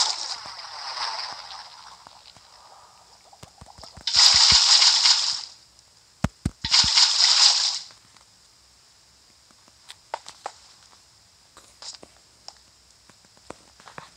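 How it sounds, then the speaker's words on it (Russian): Water poured in two short bursts of steady broadband rush, each lasting about a second and a half with a pause between, set against a quiet room with faint clicks and brief vocal sounds. "Теперь заливаем водичку."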